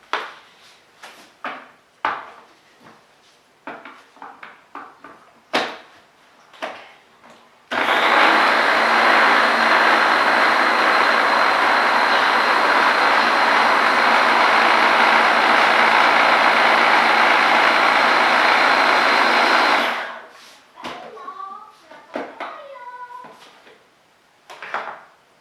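A Babycook blender purées potato, cauliflower and meat for baby food with a loud, steady whirring roar lasting about twelve seconds, preceded and followed by small clicks and kitchen handling noises.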